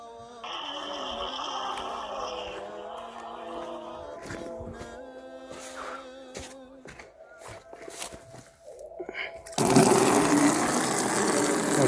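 Water bursts loudly from a newly installed water line in the village of Al-Karm, El Arish, North Sinai, a sudden steady broadband gush that starts near the end after a stretch of voices and background sound.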